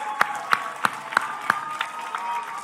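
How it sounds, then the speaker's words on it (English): At a Vacation Bible School opening, an audience claps in unison for Ringo, five sharp, evenly spaced group hand claps followed by softer scattered clapping, with crowd murmur underneath. "Everybody give Ringo a hand clap."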